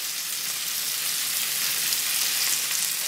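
Tomatoes sauté in a hot cast iron pan, producing a constant, even sizzling hiss that stays close and unbroken throughout with no voices.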